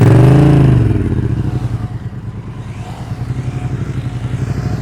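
A motorcycle engine revs loudly up close during slow-speed riding practice, a strong throttle burst at the start settling into a steady, pulsing idle-like chug with light mechanical clatter.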